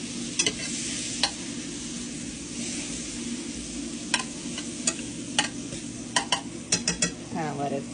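A full stick of butter sizzles and melts in a hot pan, a steady close hiss broken by repeated sharp clinks and scrapes of a spoon against the pan.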